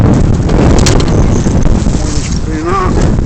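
Strong wind buffets an outdoor spot during a rear brake job on a Peugeot 307, roaring loudly and steadily against the microphone, with a faint voice briefly mixed in.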